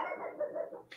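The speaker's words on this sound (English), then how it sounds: "So my dogs are barking" Dogs barking in a home, a muffled, somewhat distant continuous bark heard alone.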